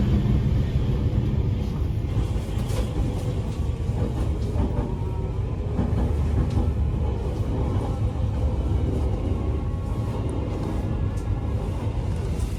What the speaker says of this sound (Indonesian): dikarenakan ada kereta api yang akan melintas